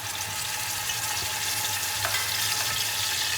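Two tablespoons of garlic sizzling and frying in a pan of hot oil for mutton korma, a steady close crackling hiss throughout.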